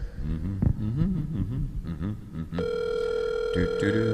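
A phone call to a mother on her birthday: a voice talks at first, then a steady electronic line tone with bright harmonics holds unbroken through the second half.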